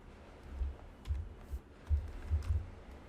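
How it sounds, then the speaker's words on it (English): Typing on a computer keyboard: scattered soft, muffled key taps in an uneven rhythm, faint and close, with no talking. "let's go to our resume and type in the profile for us."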